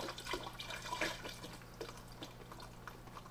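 Boxes of chicken stock pour into a soup pot, a faint continuous liquid splashing and trickling heard close with no talking.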